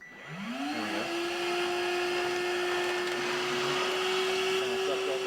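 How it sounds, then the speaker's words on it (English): A small shop vac sucks air out of a bag of bulk food for storage, its motor spinning up into a loud, steady high whine that holds for several seconds, close and continuous without talk. "take this little shop vac vacuum thing in here"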